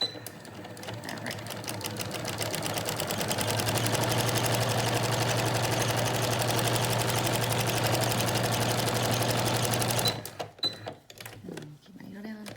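Sewing machine stitching a rounded beak-style washable fabric face mask, a fast rhythmic mechanical whir that builds and runs steadily for about ten seconds, then stops, followed by faint handling clicks.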